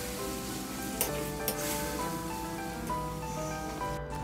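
Mutton keema fries in a pan for a dhaba-style keema pav, giving a steady, close sizzle with light spattering and a couple of sharp pops from stirring; no one talks.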